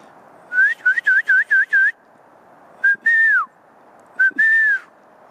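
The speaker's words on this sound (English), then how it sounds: "I'm gonna whistle, so hold your ears." A person whistling loudly outdoors near a tree line: a quick run of five short rising chirps, then a pause and two longer pairs, each a short note followed by a drawn-out tone that slides downward, clear and close.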